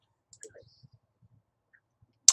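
A few faint, soft mouse clicks in office software sound close and dry within near-silence, followed by one sharper click at the very end.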